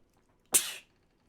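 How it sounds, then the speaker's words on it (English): A single sharp sneeze bursts out close to the microphone against near silence, lasting about a third of a second. "Sorry, I had to sneeze."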